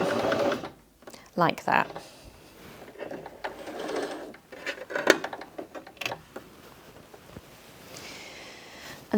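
A Bernette B35 sewing machine runs in short bursts, whirring and clicking through a few stitches on the spot to finish a buttonhole, with talk between the bursts.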